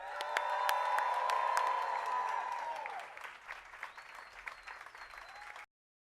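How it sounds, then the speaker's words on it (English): A crowd at Tyler Perry's Hollywood Walk of Fame star ceremony bursts into loud applause and cheering, swelling for a few seconds before thinning into scattered claps and whoops and then cutting off. "So please help us celebrate by cheering."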